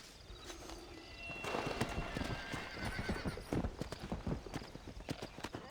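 A horse in Red Dead Redemption clops along with close, rhythmic hoofbeats and lets out a whinny, the steps growing louder partway through, with faint background ambience.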